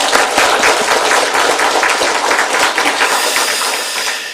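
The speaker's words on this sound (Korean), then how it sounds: "올 한 해 또 우리 찬양대 잘 되도록 우리 박수로 격려 한번 합시다" A church congregation applauds together in a sustained, dense burst of clapping that fills the hall at steady volume, tapering slightly at the end.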